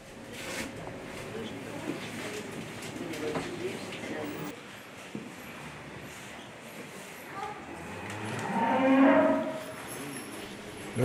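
Cattle low in a barn at Isola, with a deep, drawn-out moo swelling near the end over a quiet room tone of shuffling and faint background voices.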